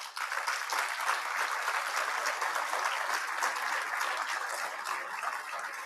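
A large audience at a formal event gives steady, sustained applause. It sounds fairly distant and muffled, a continuous wash of many hands clapping for about six seconds.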